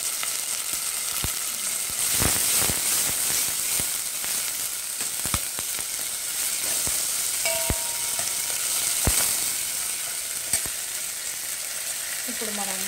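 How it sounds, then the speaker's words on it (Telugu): Ginger paste and fenugreek greens fry in hot oil with a steady, dense sizzle and occasional crackles and stirring clinks throughout. "మనం అల్లం పేస్ట్ కూడా వేసినాం కాబట్టి అది కూడా ఫ్రై అవుతూ ఉంటుంది"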